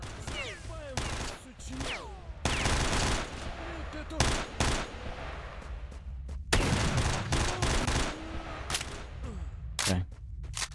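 Gunfire from a gun in the video game STALKER Shadow of Chornobyl: loud, repeated sharp bursts and rapid volleys spread across the stretch, with brief gaps between shots.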